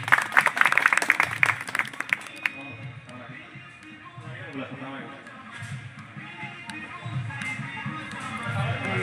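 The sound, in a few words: audience applauding loudly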